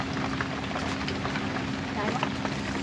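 Light rain falls steadily outdoors during a flood season while fish porridge is cooked, a constant soft hiss with faint patter, near and even throughout.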